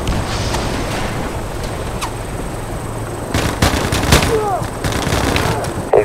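Rapid gunfire bursts and sharp single shots crack out in the Battlefield Mobile video game over a constant background rumble, some close and loud, with a few brief whooshing sounds.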